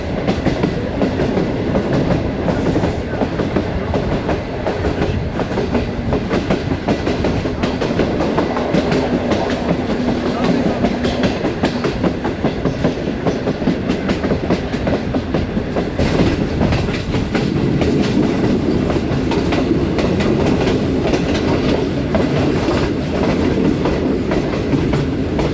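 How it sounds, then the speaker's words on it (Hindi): Awam Express passenger train with new coaches passing through Madinatul Hujjaj railway station: a loud, continuous rumble with steady clickety-clack of wheels over rail joints for the full stretch, no voices. "ट्रेन इस वक्त मदीनातुल हज्जाज रेलवे स्टेशन से पास थ्रू हो रही है"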